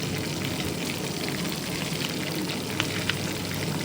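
Fish fries in hot oil with a dense, even sizzle heard close up, steady throughout with a couple of faint pops near the end.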